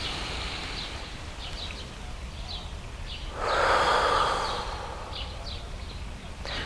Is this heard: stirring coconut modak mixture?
no